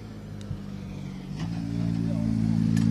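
Rally car at Rally Serras de Fafe e Felgueiras on the Lameirinha stage, its engine building from a distant hum to a steady, louder drone as it drives through toward the stop line, with a helicopter overhead and faint sounds of people nearby.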